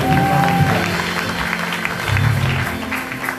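A church congregation cheers and applauds the Lord, producing a continuous wash of clapping and crowd noise that holds steady for several seconds.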